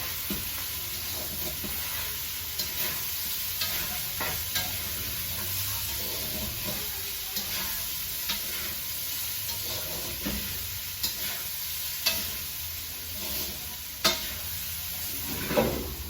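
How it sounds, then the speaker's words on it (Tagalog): Food is stirred in a hot pan to keep it from sticking, with continuous close sizzling under repeated scraping strokes and a few sharper clanks, without any talk. "habang i-mix natin para di sila magdikit-dikit sa ibaba"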